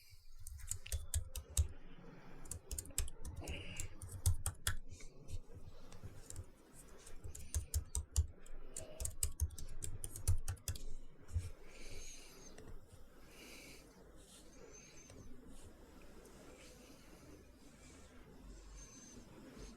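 Rapid clicking keystrokes on a computer keyboard while a password is entered, a dense burst of close, fairly quiet taps that thins out over the second half into faint room tone.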